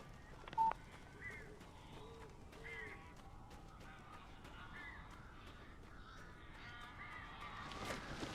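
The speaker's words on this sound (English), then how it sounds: "These birds are weird." Crows caw in the video game Alan Wake, several short harsh calls repeating at a distance over a low dark ambient bed, with a brief electronic beep near the start.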